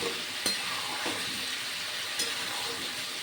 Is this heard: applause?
no